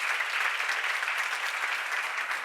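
A church congregation at a seminar claps steadily, a soft and even wash of hands heard from some distance. No talking carries over the applause.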